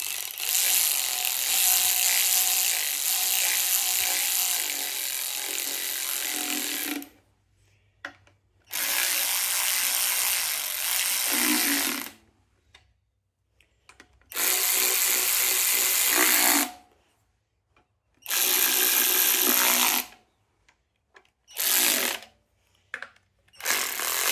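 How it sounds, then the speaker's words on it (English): A cordless ratchet tightens valve adjusters on a Subaru 2.5 SOHC engine, whirring and clicking in about five loud, close bursts separated by short silent pauses, with no talk. "Use my very trusty my cordless ratchet."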